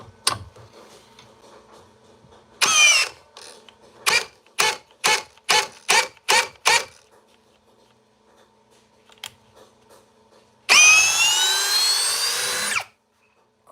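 A Craftsman drill drives an 8-inch timber screw in a burst of whirring, then a string of short, rhythmic stop-start pulses as it binds, followed by another sustained loud whir near the end.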